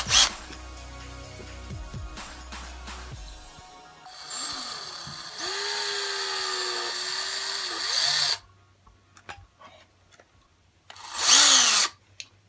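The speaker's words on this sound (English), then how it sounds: "I'm gonna start out with 1/8. I just wanna get the hole drilled how I want it." A power drill bores a 1/8-inch hole in short bursts, loud whining runs separated by pauses and scattered handling noises, with one final brief spurt near the end.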